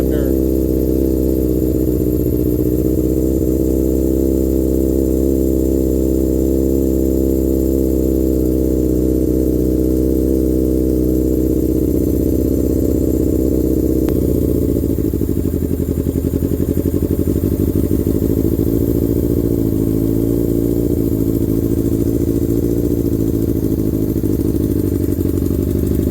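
A Honda CBR600RR motorcycle engine idles roughly and steadily up close, its uneven low rumble running without a break for the whole span, with a slight shift in tone midway.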